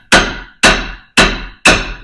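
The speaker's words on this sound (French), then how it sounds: "petit coup de marteau" A hammer taps four times at an even pace on a Peugeot 206 front suspension arm during a repair, each blow a sharp close metallic knock with a short ringing tail.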